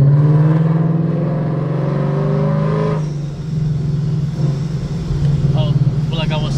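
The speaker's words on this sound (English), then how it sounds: "You guys are probably gonna hear the car." A car engine drones steadily up close, its tone rising slightly before settling into a rough idle rumble.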